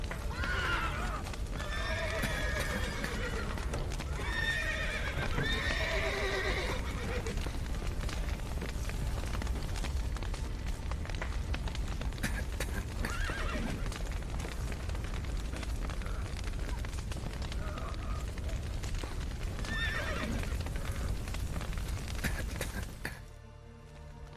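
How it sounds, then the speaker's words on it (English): Horses neigh and whinny amid the loud, constant din of a Witcher 3 game scene, with hoofbeats and booming rumbles filling the background; a few calls stand out in the opening seconds and near the end. "Horses!"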